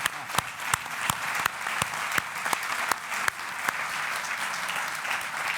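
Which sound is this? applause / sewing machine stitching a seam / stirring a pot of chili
applause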